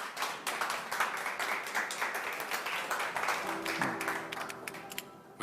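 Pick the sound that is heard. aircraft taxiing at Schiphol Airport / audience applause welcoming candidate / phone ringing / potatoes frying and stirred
audience applause welcoming candidate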